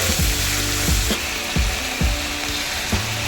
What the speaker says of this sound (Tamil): அவரைக்காய் சேர்த்து நல்லா வதங்கிட்டு வந்துட்டு